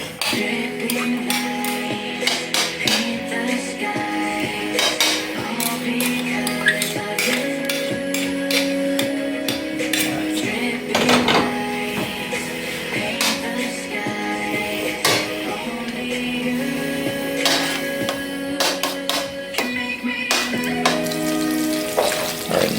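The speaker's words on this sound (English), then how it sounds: "So let's go back to the stove. Alright, so I'm putting in the pork." Pork frying in a pan on a stove for fried rice: a continuous sizzle with frequent sharp clinks and clatters of a utensil against the pan, under a steady tonal background that sounds like music.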